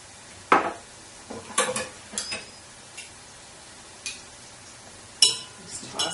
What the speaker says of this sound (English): Just toss it up.